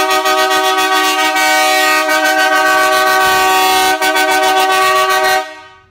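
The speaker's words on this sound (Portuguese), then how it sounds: "o Celta aqui, ó, com a buzina marítima dupla" Dual marine air horn fitted to a Chevrolet Celta blares in a loud, sustained, deep two-tone blast with slight pulsing, held for over five seconds, then cuts off abruptly.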